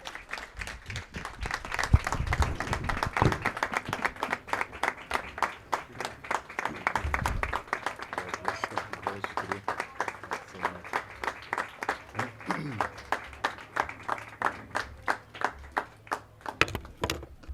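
A congregation at a Christian church service applauds to welcome a pastor to the pulpit, with steady, rhythmic clapping throughout and a low hum of background sound beneath.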